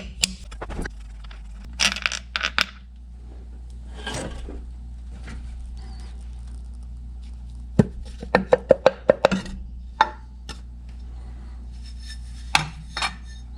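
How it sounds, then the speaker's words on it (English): The lid comes off an oil canister filter with scattered metallic clicks, scrapes and rattles, including a quick run of sharp ticks midway, close up and without speech. "So let's take the lid off and make sure there's oil in there even."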